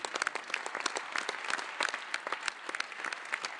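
Dense, steady applause fills the Italian Chamber of Deputies in Rome during a parliamentary sitting, with many hands clapping at once for a few seconds and no voices over it.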